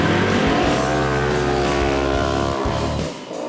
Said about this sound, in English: Back at the starting line, the rest of the pro UTV field starts the race.